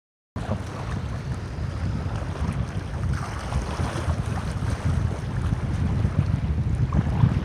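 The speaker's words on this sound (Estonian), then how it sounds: "tuul on nii kõvaks läinud" Strong wind on a lake buffets the microphone in a continuous rough roar, gusting louder toward the end, with water lapping underneath and no talking.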